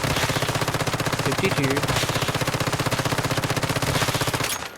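The MPS7 gun in the survival shooter Once Human fires in a long, rapid automatic burst, a dense, loud stream of evenly spaced shots lasting several seconds before cutting off, with a voice briefly speaking over it.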